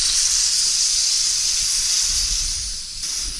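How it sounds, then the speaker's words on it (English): A camping stove gas canister hisses steadily from a valve left open while fitting, a loud, close, continuous rush of escaping gas that dips slightly near the end. "So we had some initial excitement with the gas valve being open as we fitted the gas canister."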